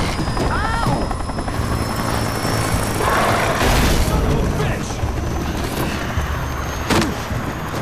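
A helicopter runs in the Alan Wake video game, a loud continuous rotor thrum throughout, with booms and bursts of gunfire-like cracks breaking through and a voice talking over it.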